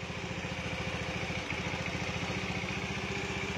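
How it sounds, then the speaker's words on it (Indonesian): A Honda Beat motorcycle fitted with a PE24 carburetor runs at a steady idle, its close, even engine putter beating in a regular rhythm on its own. "Tapi kalau menurut saya bisa kedengeran ya suara mesin."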